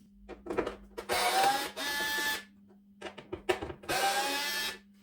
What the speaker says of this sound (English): We need to remove these 2 screws.